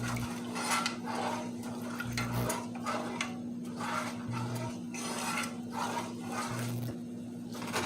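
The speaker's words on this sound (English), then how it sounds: "we're just gonna simmer this until it thickens and stir it all in" A utensil stirs honey glaze for meatballs as it simmers in a pan, giving steady scraping and light clinks against the metal over a low continuous hum, with no talking.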